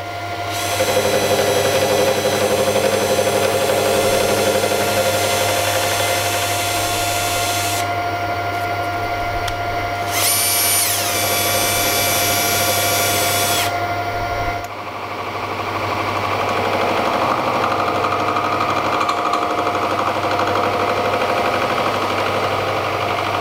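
Lathe turning down the diameter of a steel blank for a 5 tpi tandem ACME tap, a steady, loud machining drone with a low motor hum, running continuously with brief shifts in tone, no talking.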